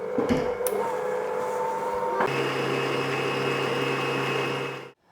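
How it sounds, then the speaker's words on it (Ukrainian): An electric mixer whips eggs in a bowl, a steady loud whirring drone that shifts from low speed to a higher, stronger speed partway through before cutting off. "І включаю спочатку на маленькі обороти, а потім збільшую до великих і нехай вони збиваються до пишності"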